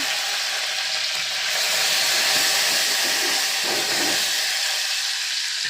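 Garlic, cumin and curry leaves sizzle in hot oil with a dense, steady hiss that stays loud and close throughout, with no voices over it.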